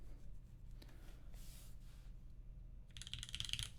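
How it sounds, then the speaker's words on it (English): Typing on a newly built Manta mechanical keyboard, quiet close key clacks in short bursts over a low background hum, growing busier and brighter near the end. "Sounds like a keyboard. It is a keyboard."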